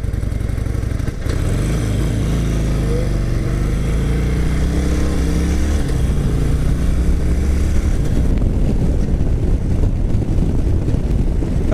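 Harley-Davidson Sportster motorcycle starting up and riding off, a loud, steady engine rumble that builds and holds with continuous throttle for the whole stretch, close to the microphone with no talking.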